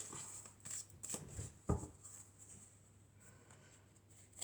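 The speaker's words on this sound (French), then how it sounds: "Alors, on va tirer quelques cartes." Tarot cards being shuffled and drawn, a quiet close flutter of riffling card stock with a few soft slaps and one sharper tap as a card is laid down, no voice over it.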